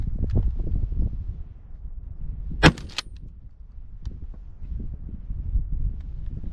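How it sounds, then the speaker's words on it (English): A single sharp shotgun blast during a pigeon hunt, loud and close, standing out against a low outdoor rumble with no talking. "I'm gonna shoot him there."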